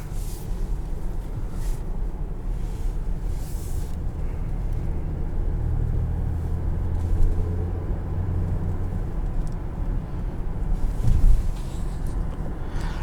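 A 2023 Infiniti QX60 Autograph is driven on the road after running for about twenty minutes. Inside the cabin there is a steady low engine and road rumble, with a faint, brief tonal hum and no speech.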